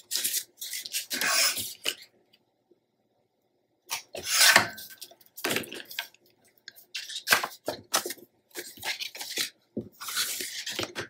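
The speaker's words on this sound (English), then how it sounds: "we're just going to trim it to fit" Patterned scrapbook paper for a Graphic 45 page is trimmed with scissors, heard as several close, quiet bursts of snipping and rubbing separated by silent pauses.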